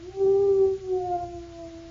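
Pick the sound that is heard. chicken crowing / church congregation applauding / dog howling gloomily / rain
dog howling gloomily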